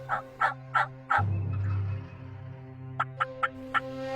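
A wild turkey gobbler gives a loud, close rattling gobble, bracketed by a series of short sharp clucks or yelps before and after, with no talk.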